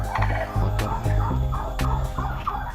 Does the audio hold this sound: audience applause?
no